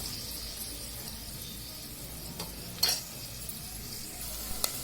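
Green chilies frying in a pan, a soft steady sizzle under occasional clinks and scrapes of a spoon stirring against the pan, with a couple of sharper knocks, no talking.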